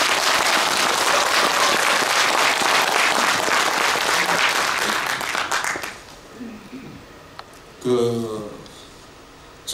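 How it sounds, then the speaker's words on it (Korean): Loud, dense audience applause at a Korean community welfare centre's student exhibition event, lasting about six seconds before stopping abruptly, followed by quiet room noise and a voice speaking. "우리 다시 한번 큰 박수 한번 보내드리겠습니다"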